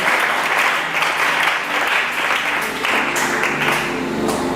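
A church congregation applauding throughout a Friday worship service, with steady, dense, loud clapping that fills the room and carries no speech.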